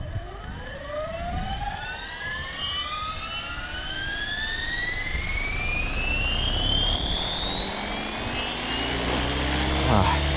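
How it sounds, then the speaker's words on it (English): A Synergy 516 RC helicopter spooling up and flying at a field, its high turbine-like whine rising steadily in pitch along with the rotor harmonics. Loud and continuous throughout, with a faint breezy rumble beneath. "This helicopter is so smooth."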